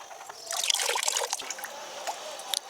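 Water from soaked cocopeat trickles and splashes through a kitchen strainer, a bright continuous dribble with scattered drips, close and fairly quiet, no talking.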